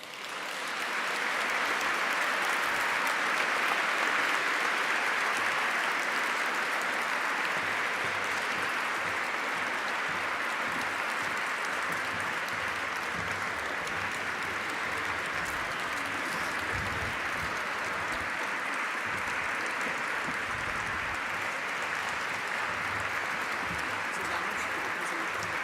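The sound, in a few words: audience applause at a concert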